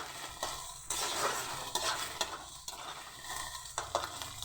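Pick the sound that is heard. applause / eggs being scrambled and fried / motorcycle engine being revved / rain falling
eggs being scrambled and fried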